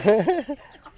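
Close, loud clucking calls from a chicken, several quick rising squawks in a row that trail off into softer notes, on a village farm in Laos.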